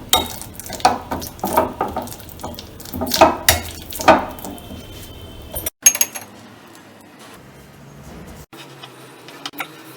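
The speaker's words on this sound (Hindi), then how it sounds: "और एक बोल में डालेंगे और मैशर से इसे अच्छे से मैश कर लेंगे।" Ripe, soft bananas mashed with a masher in a bowl, heard as repeated clattering scrapes and knocks of metal against the bowl for several seconds, then quieter scattered clinks and handling noises.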